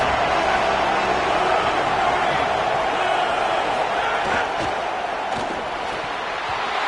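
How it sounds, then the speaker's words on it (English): Dense, steady stadium crowd roar at a football game, a broad continuous wash of many voices that stays loud throughout with faint bursts of shouting and a commentator's voice over it. "This crowd trying to make life miserable for this offense."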